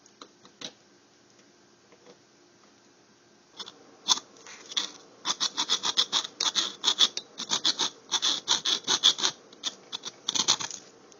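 Rasping, scraping cuts into the metal current shunt of a 300V 100A dual LED digital volt amp meter, starting with a few isolated scratches, then becoming a dense, rhythmic run of close strokes.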